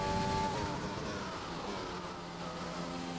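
Race car engine held at half throttle in a racing video game, a faint steady drone with a constant pitch and no breaks.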